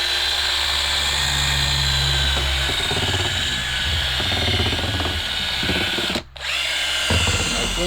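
A power drill stirs homemade fertilizer in a steady, loud whir that shifts pitch as it works, then stops briefly and starts again.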